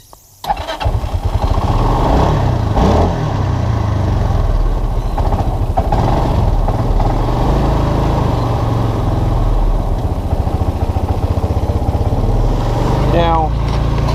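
A warm Linhai Big Horn 400 4x4 ATV with an intermittent crank-and-stall fault cranks briefly, fires up and settles into a loud, steady, close idle that holds for over ten seconds.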